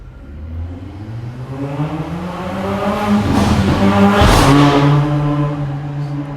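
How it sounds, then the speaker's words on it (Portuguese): A motorcycle passing close by on a street, its engine loud, rising in pitch as it approaches and falling away after it goes past, heard alone without talk. "E gera fenômenos como essa moto, atrapalhando a gente."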